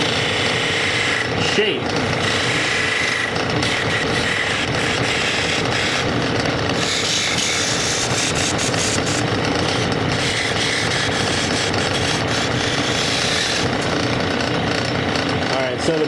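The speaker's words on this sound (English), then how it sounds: "I'm going to come in here with this pointed scraper so I can get in really close" A pointed scraper shaping a wooden chess piece on a spinning lathe, giving a continuous close whirring scrape with small shifts in pressure, while a person talks over it throughout.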